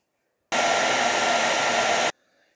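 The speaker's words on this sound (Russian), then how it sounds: "сушу слегка теплым феном, потому что горячим бусы могут отклеиться" A hair dryer on a warm setting blows onto freshly painted autumn pumpkin decor with glued beads; it is a close, steady whoosh lasting under two seconds, switched on and off abruptly, with nothing else heard.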